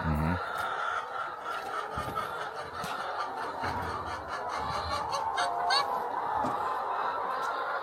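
Laying hens clucking and squawking at a poultry site in Yaoundé, a noisy outdoor setting, with voices and laughter mixed throughout and a steady background hum.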